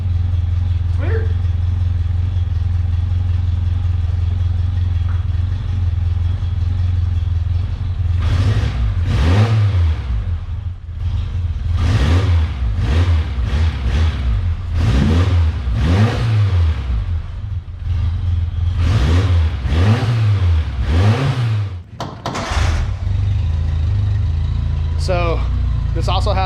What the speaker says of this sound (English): It's weird with the air cleaner on, it wants to not like run as good.